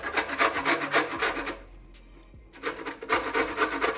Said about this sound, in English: So what I like to do is to take a lemon. I washed it, by the way, and a grater